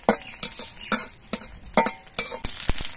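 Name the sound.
green chilies frying in a wok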